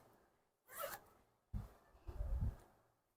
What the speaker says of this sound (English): This is our zipper by the left side.